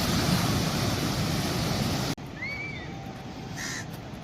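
Sea waves washing onto Ladghar beach at Dapoli, a loud broad surf roar that cuts off abruptly halfway, leaving quieter wash with crow caws overhead.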